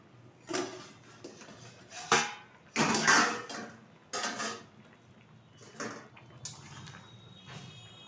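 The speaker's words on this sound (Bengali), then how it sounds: "ঢাকনাটা তুলে দিচ্ছি" Metal lid lifted off a pot of katla fish curry with potato and pointed gourd, a handful of close clanks and rattling metal knocks spread over several seconds with quiet gaps between them.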